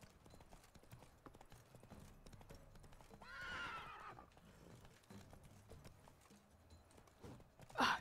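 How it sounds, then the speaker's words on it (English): A scared horse whinnies in The Witcher 3, its neigh rising loud over a steady clip-clop of hooves and busy game ambience, fading back into hoofbeats. "My horse is scared, though."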